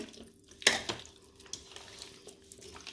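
Soft wet mixing of fish pieces into a thick masala paste in a bowl, with a few light clinks and squelches close by, quiet and brief, without talking.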